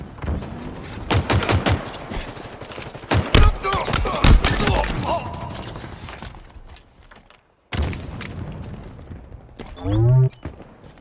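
Bursts of automatic gunfire in the video game Halo Infinite, rapid sharp volleys in clusters, loud and close, with a pause and a final explosive thump.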